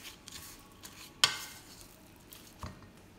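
A spoon stirs cassava cake batter mixed with vanilla powder and sugar, a soft continuous scraping and swishing in a bowl with a couple of sharper clinks of utensil against the side.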